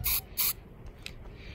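An aerosol can sprays primer in two short hissing bursts during an outdoor test spray for painting a 1/24 scale model, followed by faint breezy rustling and handling noise.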